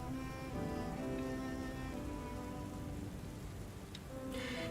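Storm rain in the video game Book of Hours, a steady, soft hiss of rainfall that continues throughout alone, with a few faint tonal chimes of background music.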